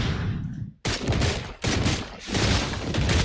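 Rapid gunfire from the video game Wuthering Waves rattles in dense, loud bursts with brief gaps between volleys.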